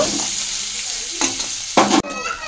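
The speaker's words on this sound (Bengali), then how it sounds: "লবণ আর হলুদ দিয়ে আমি ডিমগুলো লাল করে ভেজে নেব" Eggs fry in mustard oil with salt and turmeric, a steady sizzle broken by a few sharp scraping stirs near the end before the hiss drops off abruptly.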